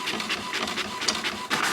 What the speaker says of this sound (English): Here come the labels, fresh off the printer.